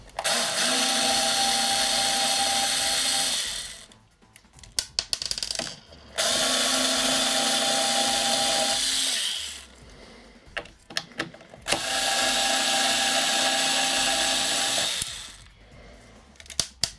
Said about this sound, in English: and then we'll undo the four Phillips